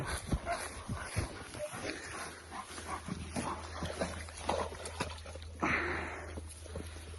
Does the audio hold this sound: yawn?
no